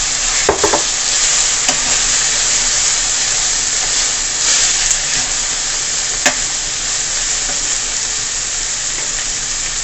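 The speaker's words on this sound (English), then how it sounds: "now that my herbs are sauteed, here I'm going to add the codfish or the saltfish as we call it" Herbs sautéing in a frying pan as saltfish (codfish) goes in, a loud continuous sizzle and hiss with a few sharp clicks and stirring scrapes scattered through.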